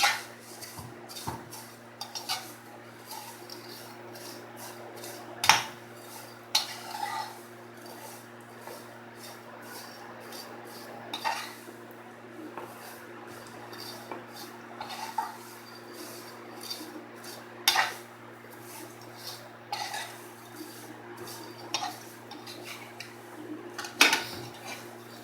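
Vermicelli roasts in a pan as a utensil stirs it, giving a steady run of light scraping and clinking taps against the metal, with occasional sharper knocks over a low steady hum.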